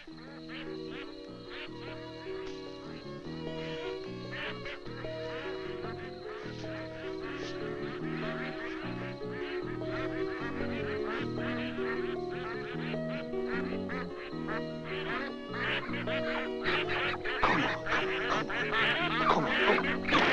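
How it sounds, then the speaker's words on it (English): A dense flock of ducks quacks continuously for twenty seconds, many overlapping calls building louder toward the end, with no talk over them. "they're ducks, not geese"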